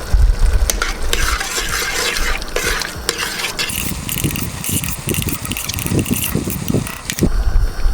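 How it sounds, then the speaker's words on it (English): Seasoned beef goulash stirred in a pan with granulated garlic, loud close scraping and sizzling throughout, with a heavier burst of stirring clatter near the end. "And I'm gonna give that a stir."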